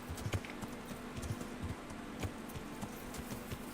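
Horse hooves clip-clopping in the medieval video game Kingdom Come Deliverance, a fairly quiet, irregular patter of hoof hits under a constant low hum, with no talk.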